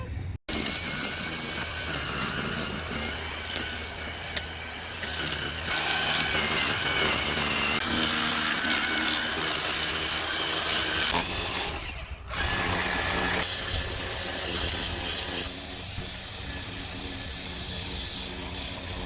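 A saw cuts branches during yard pruning, giving a continuous loud, gritty buzz close by that pauses briefly partway through before carrying on.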